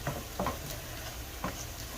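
Onions and garlic saute quietly in a pan with hamburger, giving a soft, steady sizzle broken by a few light stirring taps.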